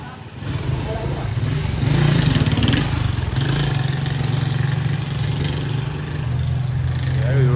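A motorcycle engine idles and revs steadily at close range for most of the stretch, with a louder swell early on, while people talk over it.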